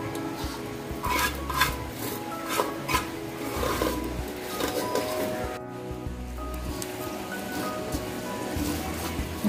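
Steamed semolina dough worked by hand with ghee in a wide plate for modak, giving steady soft rubbing and pressing sounds with faint clinks of the dish, close and continuous with no talk.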